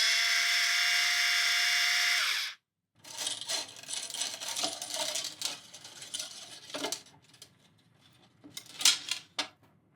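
A PowerPeg Pro powered string winder whirs loudly and steadily for a few seconds while unwinding guitar strings, then stops, followed by scattered metallic clicks, rattles and small clanks of strings and parts being handled.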